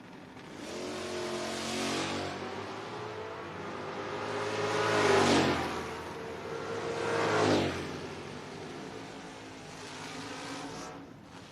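Drag race cars, a Camaro and an Aspen, launch and roar down the strip, a sustained loud engine drone that swells twice as they accelerate and then fades toward the end, with no voices.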